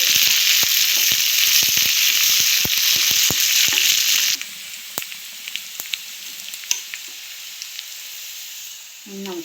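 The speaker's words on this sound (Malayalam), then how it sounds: "അതിലേക്ക് നമുക്ക് വേപ്പില ഇട്ട് കൊടുക്കാം." Curry leaves hit hot oil with fried onions and give a loud, spitting sizzle with sharp pops for a few seconds, then die down to a quieter crackle with scattered pops.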